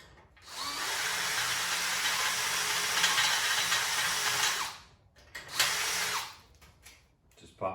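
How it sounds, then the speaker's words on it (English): Power drill with a 3/16 inch bit drilling out the bottom rivets on a modified Harbor Freight motorcycle carrier, a loud steady whine for about four seconds, then a short second burst after a brief pause. "3/16 inch bit. Drill out these rivets."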